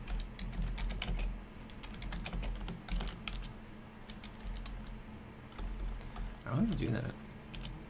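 Rapid, uneven clicking of typing on a computer keyboard runs close and steady throughout, with a voice briefly speaking near the end.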